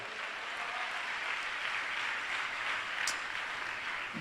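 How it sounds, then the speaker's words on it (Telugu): Steady applause from a church congregation, a continuous even wash of clapping held at moderate loudness throughout, with no voices breaking through. "కొట్టు చప్పట్లు ఒకసారి"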